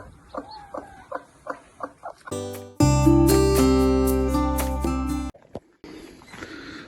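Newly hatched chicks, nine of them, peep in quick, rising chirps on a farm, a run of short repeated calls up close before loud music abruptly takes over.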